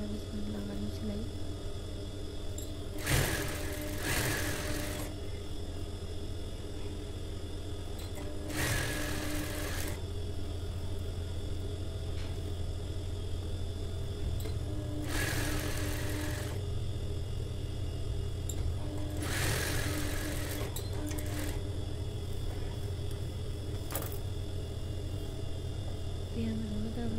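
A sewing machine stitches a simple kurta in steady continuous whirring runs, with a few louder bursts standing out over a constant mechanical drone and low hum.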